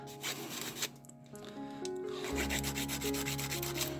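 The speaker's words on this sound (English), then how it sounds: "the front is actually harder to scuff than anything else" Paint is scuffed by hand on the front of a model car with flame decals, giving quiet close rubbing strokes in short bursts over a faint background hum.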